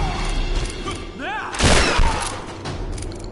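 A shotgun fires once in Tomb Raider, a loud booming blast with a mechanical rattle just before it, then a decaying rumble amid game ambience.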